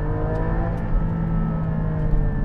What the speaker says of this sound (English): The short shift gearbox is so nice to go up and down.